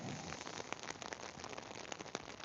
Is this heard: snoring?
no